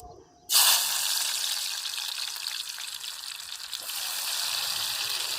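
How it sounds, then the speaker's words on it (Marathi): Chopped onion hits hot oil in a pan cooking by a riverside, setting off a sudden loud sizzle that settles into a steady, close frying hiss. "असं तेल तापलं असं ना. आता कांदा टाकून घेते."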